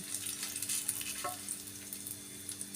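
Fish frying in hot oil gives a soft, continuous crackling sizzle with scattered small pops, moderately close and alone without speech.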